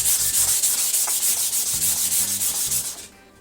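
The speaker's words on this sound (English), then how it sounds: "what this sandpaper is actually doing is taking off the dirty layer" Sandpaper scrubs rhythmically across a wooden board of an outdoor chair, loud close back-and-forth strokes repeating steadily for about three seconds before stopping.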